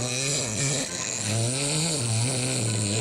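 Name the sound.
snoring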